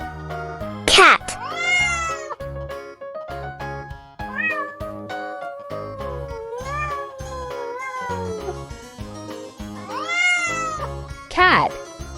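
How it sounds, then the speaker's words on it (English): A domestic cat meows repeatedly, with loud, drawn-out cries that rise and fall in pitch, and some sharper caterwaul-like calls near the start and end, heard alone and up close. "Cat."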